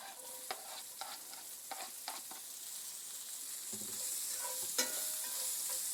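Diced onion and bacon cooking in a pan, with a soft continuous sizzle and occasional light clinks and scrapes of a utensil stirring, close but fairly quiet.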